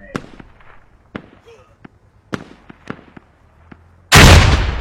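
A frag grenade goes off in a multiplayer war game, a loud sudden blast that follows a run of scattered gunshots and distant pops. Players talk over the fighting.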